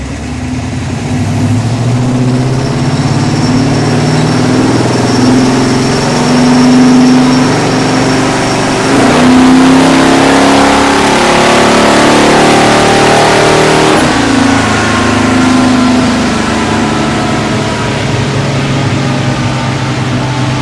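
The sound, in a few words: car engine revving during a chassis dyno run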